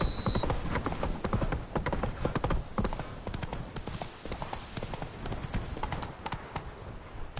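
Horse hooves clip-clop in a steady walking rhythm in The Witcher 3, close and clear over a soft ambient bed, with a brief tone at the start.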